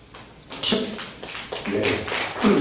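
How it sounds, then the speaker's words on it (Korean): Scattered claps and taps rise gradually from a church congregation applauding the Peace Cup victory, starting sparse and growing louder and denser, with some vocal sound mixed underneath. "피스컵 승리를 위해서 함께 박수를 올려주시면 감사하겠습니다"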